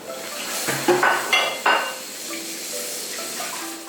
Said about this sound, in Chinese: 把刚刚调好的料汁倒进去，盖上盖子煮5分钟